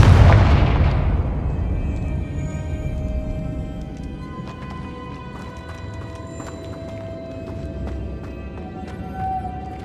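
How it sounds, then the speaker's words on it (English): A Confringo blasting spell explodes in the Hogwarts Legacy game, a loud burst at the start that decays into a long rumbling tail, followed by scattered crackles and debris clatter. "Confringo."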